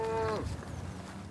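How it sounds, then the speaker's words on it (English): A pregnant cow on an Edwardian-era farm gives a single short moo in a field, close and clear over a steady outdoor background. "watching their pregnant cow"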